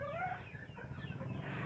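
Chickens cluck and warble close by in a coop, several birds overlapping in a steady, busy stream of calls.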